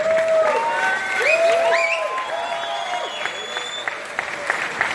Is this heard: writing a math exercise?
no